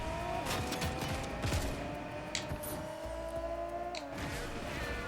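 A car driving in a video game, a continuous engine drone with rising and shifting pitch, short bright clicks and bursts over it, no talking.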